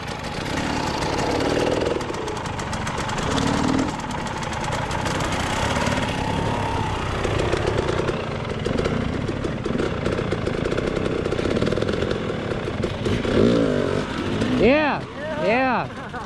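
An enduro dirt bike engine revs and strains as the bike is ridden over a log, a continuous rough motor drone with throttle swells throughout, while people talk over it.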